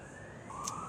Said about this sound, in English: can this ambulance shut up?